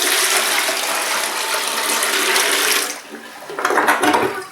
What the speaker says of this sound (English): All you need is a bucket of water and just kind of quickly dump it in